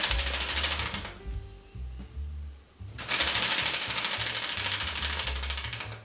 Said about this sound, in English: Split flip displays, really cool. The coolness factor like goes up with like every flip. However, surprisingly noisy.